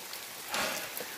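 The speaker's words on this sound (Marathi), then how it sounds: "3 दिवस झाला पाऊस नव्हता, आता चालू झाला आहे." Rain falls outdoors as a brief, steady broadband hiss with a slight swell in the middle, close and moderately loud, without any speech.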